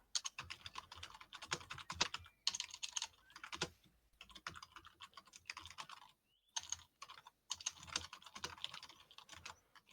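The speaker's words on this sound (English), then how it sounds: "God, he's a loud typer, isn't he?" Rapid, heavy keystrokes clatter on a computer keyboard in loud bursts with short pauses between runs, close and dominant with no talk over it.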